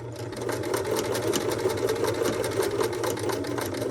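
Sewing machine stitching slowly in reverse to backstitch near the edge of fabric for a lapped seam, a steady close mechanical hum and rapid needle chatter running continuously and evenly throughout.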